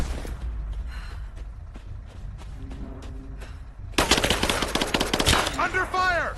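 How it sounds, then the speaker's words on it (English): Covering gunfire in Rise of the Tomb Raider, scattered shots at first, then a loud, dense burst of rapid automatic fire with chiming ricochet-like tones at the end, among combat sounds. "Laying down covering fire!"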